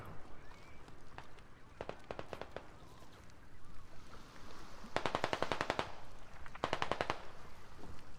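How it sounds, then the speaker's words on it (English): Distant automatic gunfire in the military shooter game Squad, several short rapid bursts from across the map, faint and crackling over low ambient noise. "Shots from across."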